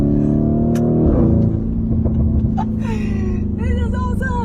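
A 4-litre twin-turbo V8 supercar engine rumbles loudly and steadily up close, with a deep throaty drone and shifting pitch as it revs, while someone talks over it.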